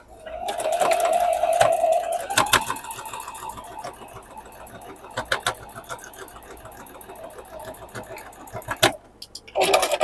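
A sewing machine stitches a seam down the middle of a quilt block, a soft steady hum with light clicks, running in short bursts and then stopping near the end.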